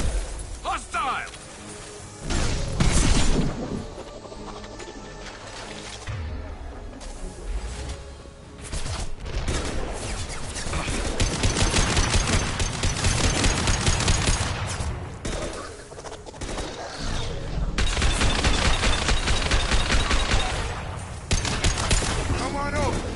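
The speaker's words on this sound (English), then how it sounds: "I love this rifle" Rifle gunfire in a Mass Effect 2 battle on Insanity difficulty: sustained bursts of loud shots and impacts run for over twenty seconds, mixed with explosions, game music and speaking voices.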